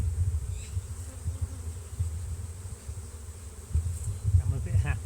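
A swarm of honey bees, just smoked down by a beekeeper, drones in a dense, low, continuous buzz, close and steady, with individual insects flitting past the listener now and then.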